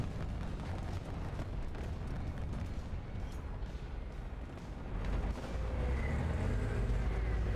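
Tank cannon fire and battle rumble in the War Thunder video game with an AuF1, dense booming and low roar throughout, loud and continuous with no distinct single shot standing out.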